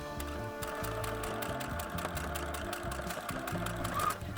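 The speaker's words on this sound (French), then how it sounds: "je peux maintenant partir à la machine à coudre pour coudre cette petite couture" Sewing machine stitching a small seam on a draught-excluder door cushion, a rapid rhythmic mechanical whirring and clatter running steadily, close and moderately loud.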